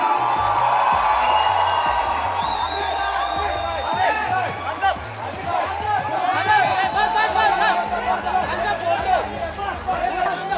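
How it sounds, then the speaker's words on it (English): A crowd at a Mumbai promotional event for a film and Windows 8 cheers and whoops loudly, with excited chatter and shouts layered over the noise throughout. "Please, a big round of applause for Amir Khan."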